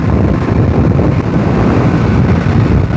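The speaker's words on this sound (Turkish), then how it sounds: "Klasik İzmir havası gene ciddi bir rüzgar var arkadaşlar." Loud wind roars and buffets continuously in Izmir, Turkey, a heavy low rumble with no pauses and no voices.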